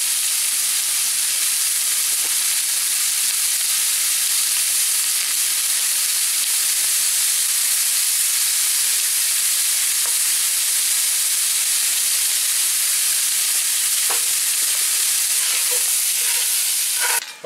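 Ground pork and bacon browning in a Dutch oven, a steady close sizzle and hiss that runs unbroken throughout, with a few faint utensil scrapes near the end.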